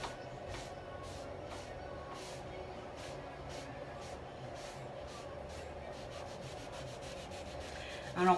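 A rag rubs Dixie Belle Best Dang Black Wax onto a painted furniture surface in a steady, soft, continuous swishing. It stays close and even throughout, with a slight bump right at the end.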